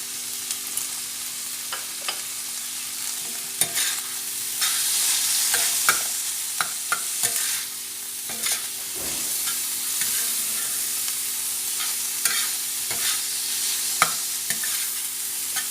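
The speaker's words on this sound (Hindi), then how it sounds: "बस इसकी और 2-4 मिनट हम भुनाई करेंगे" Tandoori chicken with roasted cumin cooks in butter on a tawa, hissing and sizzling continuously while a spatula scrapes and taps the pan in frequent sharp strokes.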